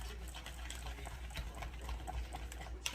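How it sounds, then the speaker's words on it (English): An egg is whisked into a mac and cheese sauce in a bowl, a quick run of soft, repetitive clicking and scraping strokes heard close up at low volume. "we're just gonna whisk this together"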